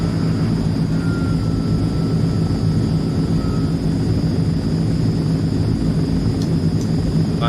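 A C160 Transall transport plane on landing approach in a flight simulator game, heard as a steady, loud turboprop engine drone with a constant high whine and no voices.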